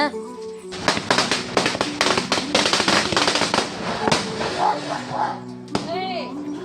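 A string of firecrackers bursts in rapid crackling pops during Diwali celebrations, loud and close, then a few scattered bangs as people talk nearby.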